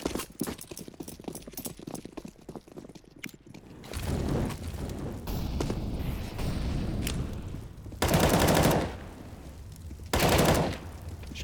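Gunfire traded during a Counter-Strike match, Beyond versus Maple, rapid clattering rifle shots at first, then louder sustained bursts of automatic fire in short separated volleys.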